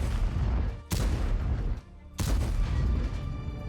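A tank gun firing a shell at a Challenger tank in a tank battle video game, two heavy booming blasts with a rumbling tail, set against a continuous loud engine and battle din.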